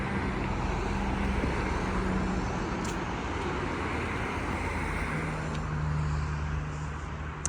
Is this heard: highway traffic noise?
yes